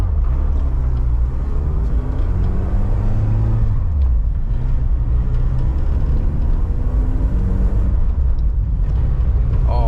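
A car drives on its first outing after a brake job, a loud, close engine rumble rising and falling with steady road noise underneath and no voices.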